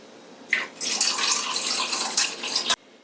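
Two cups of water pour from a tap into a container as the base for a fridge pickle brine, a brief splashing rush that starts abruptly, runs for about two seconds and then cuts off.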